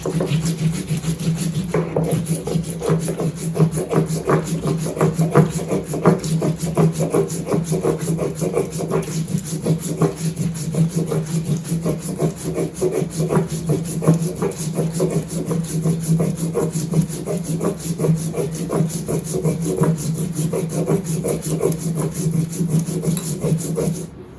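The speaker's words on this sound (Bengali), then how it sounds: "এখানে পেঁয়াজ রসুন আদা ওই যে জিরা রাঁধুনি সরিষা সব মিশিয়ে বাটছি" Onion, garlic, ginger, cumin, radhuni and mustard seed being ground on a grinding stone, a steady close rasping and rubbing that continues back and forth for the whole stretch with no pauses.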